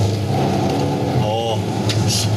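Mercedes-Benz GLC Coupe driving, its engine humming steadily from inside the cabin with a brief rise and shift in pitch as the transmission changes gear, continuous and moderately loud.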